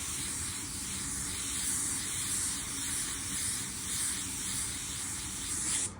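A spray gun hisses continuously as it sprays car paint near a fender, a steady, airy rush with slight pulsing, close and unbroken.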